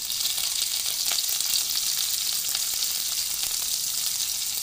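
Onion sizzles in hot mustard oil in a kadai: a steady, bright frying hiss with faint crackles, continuous and close, with no voices.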